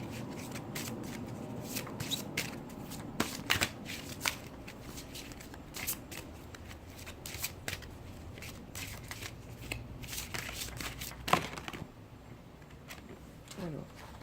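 Oracle cards being shuffled by hand, with a soft, close, continuous riffling and flicking broken by small sharp snaps, fairly quiet throughout.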